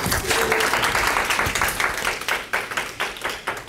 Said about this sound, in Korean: 조금 떨리는데 박수 한번 주세요.